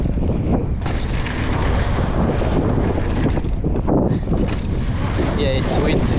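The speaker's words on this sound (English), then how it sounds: "Yeah, it's windy." Strong wind buffets the microphone at a bike park, a loud, constant roaring rush with gusty swells throughout and a faint voice briefly near the end.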